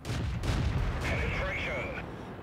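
Heavy tank gunfire in World of Tanks, from a battle in a British Churchill I heavy tank: a cluster of booming blasts in the first second, then a whining, ringing tail.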